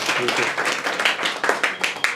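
A crowd claps steadily in a dense, lively burst of applause, fairly loud and close.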